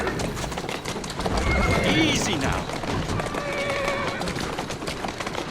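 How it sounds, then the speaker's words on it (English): A horse whinnies loudly amid rapid clip-clopping hooves, with a voice speaking briefly over the galloping, in the video game Assassin's Creed Syndicate. "Slow down now! Who's a good horse? You are. Doing fine, girl."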